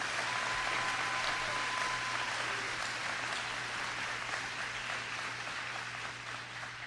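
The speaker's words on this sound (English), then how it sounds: "Let's give a round of applause for these two right here" An audience applauds at a governor's announcement event in Florida, a sustained wash of many hands clapping that stays steady and fairly loud from start to finish, slightly fading near the end, with a low hum beneath.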